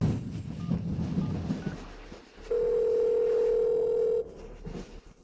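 A telephone signal tone sounds during a sudden rainstorm, with a steady electronic tone holding for almost two seconds over windy, noisy background and going unanswered.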